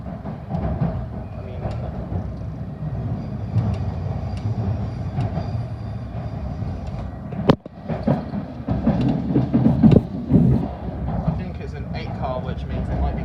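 A London Underground Metropolitan line train runs at moderate speed with a steady low rumble, a sharp clunk around the middle and louder rattling after it, while a person talks over the noise throughout.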